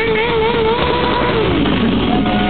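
A stunt motorcycle's engine during a wheelie show at an international motorcycle show, a loud, steady, close engine drone whose pitch slides and wavers as the rider works the throttle through the stunt.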